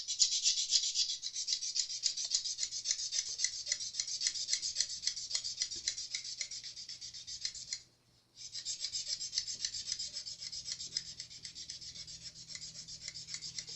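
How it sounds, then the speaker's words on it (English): An ultralight sanding pad rubs along the edge of an Epiphone Les Paul guitar body in a steady, close, continuous rasping stroke, with one short pause near the end before the sanding resumes. "I take just some ultralight sand pad, and just on the edge"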